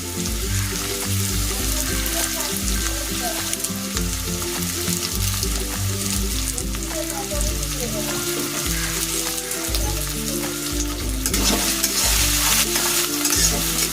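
Curry leaves, chopped tomato and onion fry in hot oil, giving a steady, close sizzle with stirring scrapes throughout, over a musical bed.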